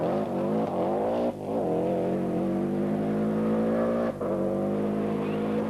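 Colin McRae's Subaru rally car on Pirelli tyres works hard through a slippery hairpin high on Plynlimmon during the 1991 Lombard RAC Rally, its engine droning loudly with gear changes and brief lifts of the throttle.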